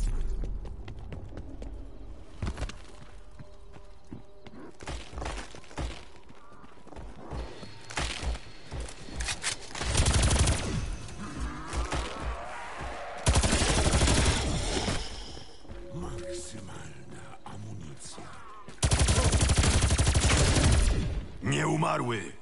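Bursts of gunfire from Black Ops Cold War Zombies rattle through a game session, with louder volleys toward the middle and end, mixed with game effects and some talk.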